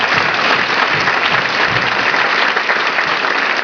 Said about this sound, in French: Encore un très beau applaudissement pour vous.